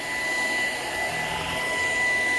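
A Shark vacuum cleaner runs steadily in a kitchen, a loud continuous motor whine with a high airy hiss and a constant tonal hum, close and alone with no talking.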